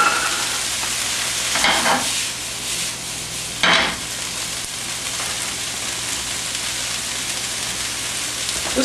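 Diced zucchini sautéing in a pan for a corn succotash, a steady close sizzle with two brief louder bursts of stirring or tossing partway through; no one talks.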